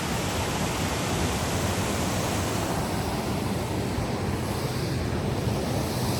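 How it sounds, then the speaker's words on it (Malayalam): Water rushing and tumbling at Pykara waterfalls near Ooty forms a loud, continuous, broadband roar with no pauses or voices. "ആ ഒക്കെ വെള്ളം തട്ടി തട്ടി ഒഴുകുന്നു"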